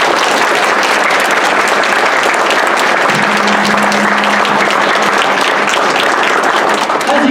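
Sustained applause from a banquet audience at a high school debate team awards event, steady dense clapping filling the room throughout, with a faint brief tone partway through.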